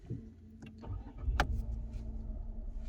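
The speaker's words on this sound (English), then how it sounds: "Just start the engine now and let's see." A Ford Puma's engine turns over with a short crank and catch, then settles into a low, steady idle rumble, faint and close, with a few clicks beforehand and no voices.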